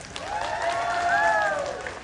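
Applause from an audience at a leaders' night gala, steady for about two seconds and mixed with a few higher cheering voices rising over the clapping.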